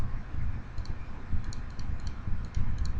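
Quick, light computer mouse clicks while trimming an object in CAD drafting software, a handful of small crisp taps spaced irregularly over a faint room hum, close to the microphone.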